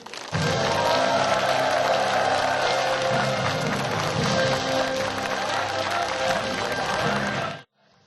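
A rally audience gives a loud, sustained burst of applause and some cheering as politician Chun Jung-bae is welcomed on stage, dense clapping for about seven seconds before cutting off abruptly.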